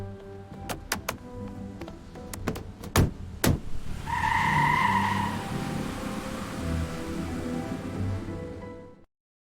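A taxi drives past after a few sharp clicks, its engine and tyre noise swelling and holding steady for several seconds before cutting off.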